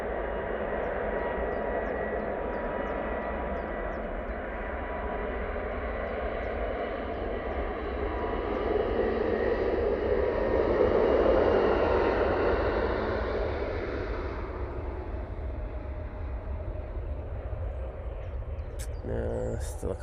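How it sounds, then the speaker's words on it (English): A Lufthansa City Airbus A320neo departs for Munich on a foggy morning, its engines a steady, broad roar that swells to a peak and then fades off, with no voices heard. "This is the Lufthansa City A320 Neo going off to Munich."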